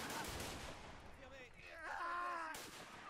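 Distant machine-gun fire in a WW1 game battle at Fort de Vaux, a dense rattling wash with a groaning, whining tone sweeping through it, fairly faint and continuous throughout.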